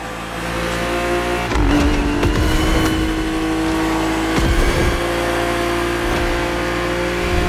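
A loud BMW engine in the video game The Crew Motorfest on PS5 revs and roars continuously, with sharp gear-change surges and rising whines, close and dominant throughout.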